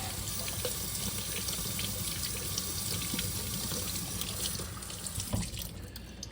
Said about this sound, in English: Let's rinse this off and drum up another fresh slurry.